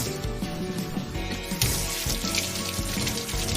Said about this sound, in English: Let's go wash our hands and get started on the meal prep.